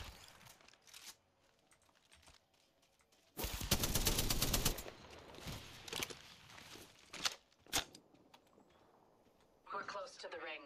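Apex Legends gameplay gunfire, with a loud sustained burst of automatic fire mid-clip and scattered shorter shots around it, mixed with game effects and clicks.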